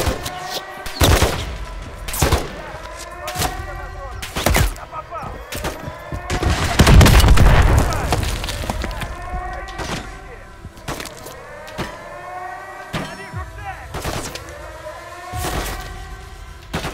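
Heavy gunfire and rocket-propelled grenade blasts in Call of Duty: Modern Warfare 3, with sharp repeated shots and a deep, rumbling explosion midway, all loud and close, alongside a melodic game score and voices shouting.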